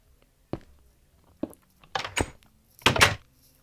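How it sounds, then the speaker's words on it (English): A Minecraft door swinging shut amid scattered blocky in-game clunks and thumps, several separate knocks spaced through the quiet, louder hits clustered toward the end. "I hate it when the door just closes on you"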